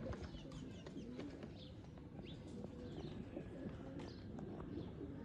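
Pigeons coo softly in a loft housing a pair of breeding birds, a male and a golden female, with low repeated cooing over a steady background murmur and no voices.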